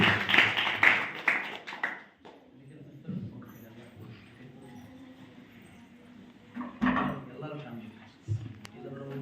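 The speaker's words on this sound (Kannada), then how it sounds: "ಮಗಳನ್ನ ಚಪ್ಪಾಳೆ ಮುಖಾಂತರವಾಗಿ ಬರಮಾಡಿಕೊಳ್ಳೋಣ" An audience at a women's church worship gathering claps to welcome a young woman, a dense burst of applause for about two seconds before a voice speaks over a quieter room.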